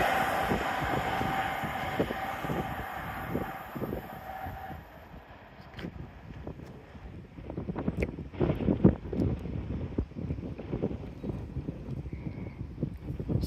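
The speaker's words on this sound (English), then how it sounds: "passing through now will be a Lumo service going from Edinburgh Waverley to London King's Cross" A Lumo express train runs through Newark Northgate station, a loud rushing roar with wind buffeting for the first few seconds, then a rhythmic clatter of wheels over rail joints continuing as it passes.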